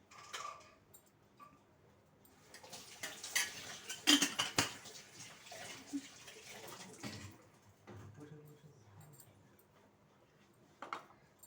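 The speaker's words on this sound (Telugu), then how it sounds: "ఆయిల్ వేసుకుందాం" Oil going into a pan set on the stove for tamara ginjalu curry, with soft clinks and clattering of pan and utensils in scattered bursts, louder in the middle, no voices.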